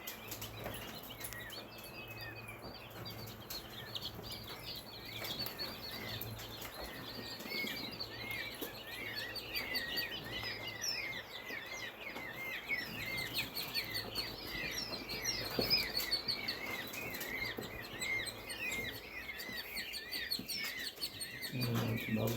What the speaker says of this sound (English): we hatched out some peacocks, pea chicks